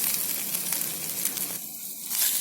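Coconut sizzles as it fries in a pan for a kondakadalai kuruma, a steady, close, crackling hiss that stays dense from start to finish.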